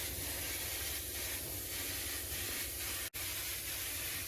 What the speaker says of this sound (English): Once dry, we immediately sprayed on the spatter paint.